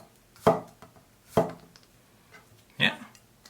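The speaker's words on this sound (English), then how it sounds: "And so here we'll just cut some rounds now." A Dalstrong Shogun Series Crixus 8-inch chef knife chops rounds in three separate crisp strokes, each a sharp knock onto the cutting board, close and clear with quiet pauses between.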